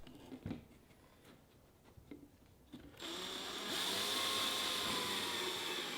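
A Ryobi drill driver is used as a screwdriver: a few soft clicks and handling taps come first, then the motor whirs steadily and grows louder midway as screws are driven in close by.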